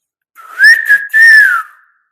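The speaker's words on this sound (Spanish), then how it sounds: "el silbogomero es una herramienta, es un lenguaje que nace como solución para comunicarse entre barrancos" Whistled Silbo Gomero language from La Gomera: two clear, loud sliding whistled phrases, rising and falling in pitch, heard alone with no talk.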